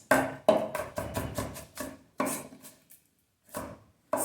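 A knife dices apple on a cutting board in a series of crisp, close chopping taps in uneven bursts, with short pauses between runs.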